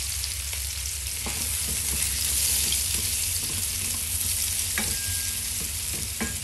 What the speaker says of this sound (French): On laisse l'huile bien chaud. On met les oignons dedans.